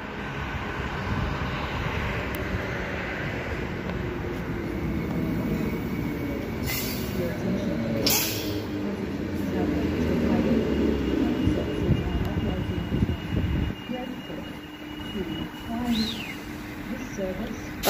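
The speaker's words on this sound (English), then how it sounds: "I'll record the Midland train" A Midland service train arrives at platform 2 of Maylands station, its rumble building and squealing faintly along the rails under steady outdoor noise. Voices can be heard as it pulls in.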